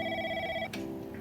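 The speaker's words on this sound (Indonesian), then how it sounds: "suara telepon ini tidak bersumber dari teleponnya sendiri ya" An inserted telephone ringing effect, a short, bright electronic ring heard alone and fairly quiet, cut off abruptly after about half a second and followed by a click.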